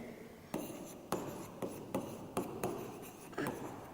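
A pen writing self-made questions for a Class 5 English lesson: a faint, steady scratching under light room noise, broken by about seven sharp taps or strokes spaced roughly half a second apart.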